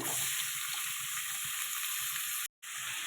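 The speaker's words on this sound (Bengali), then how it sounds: "আমি এই আলুগুলো যে ডুমো ডুমো করে কেটে রেখেছিলাম এগুলো ভেজে নেবো" Diced potatoes fry in oil in a wok with a constant, close crackling sizzle that cuts out for a moment before resuming.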